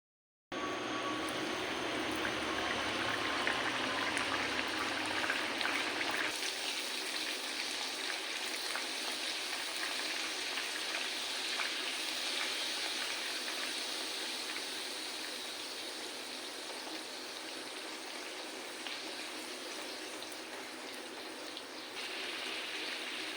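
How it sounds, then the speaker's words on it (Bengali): Radhaballavi dough discs frying in hot oil, a dense continuous sizzle and crackle that stays loud and steady, easing slightly toward the end, with no talk over it. "তেলটা গরম হয়ে গেছে। এবার এক এক করে রাধাবল্লভীগুলো আমি ভেজে নেব।"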